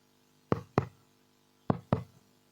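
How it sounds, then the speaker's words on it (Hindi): Knocking on a door in two quick pairs of raps, each pair a beat apart, close and crisp against an otherwise quiet room. "कोई दरवाजे से खटखटा दे रे।"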